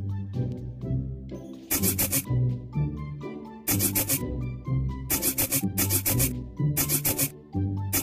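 Repeated bursts of rubbing, the sound used for wiping letters clean in a kids' alphabet learning game. It plays loud over a steady backing melody, in regular strokes of about a second each with short pauses between them.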